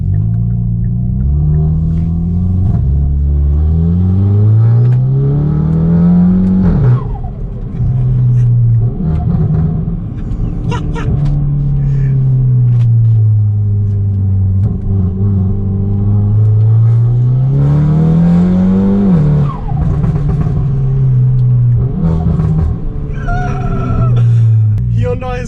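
A Hyundai i20N with its GPF deleted, driven in N mode, rumbles loudly from engine and exhaust, rising and falling through repeated revs and gear changes, a deep drone swelling and dropping throughout.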